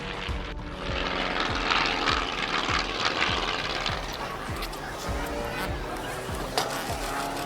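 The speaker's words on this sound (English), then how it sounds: "Pilot Chris Burkett, flying a Twister aircraft, encountered engine failure during a synchronized aerobatic maneuver." A Twister aerobatic aircraft's engine drones steadily with a propeller's pulsing throb during a synchronized aerobatic display, loud and continuous over the field, with faint crowd chatter in the background.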